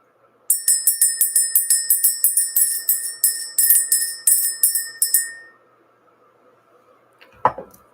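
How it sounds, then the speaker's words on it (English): A small hand bell is rung rapidly to clear energy, producing a dense run of bright, close strikes for about five seconds before fading out. A single dull knock follows near the end. "We're going to ring the bell this morning."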